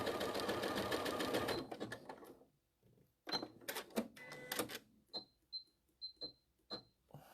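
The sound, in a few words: sewing machine doing a wavy stitch over lace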